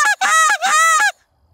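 Canada geese honk during a goose hunt: three loud, close, nasal calls in quick succession, then a sudden hush.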